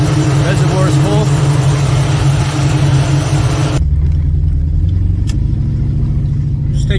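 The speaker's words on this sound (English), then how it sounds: "Just taking for a spin around the block." Oldsmobile Cutlass G-body car with a Wilwood rear disc brake conversion, driving around the block: a loud, steady engine drone and road rumble throughout, with the low engine note shifting as the car settles to a lower, smoother tone.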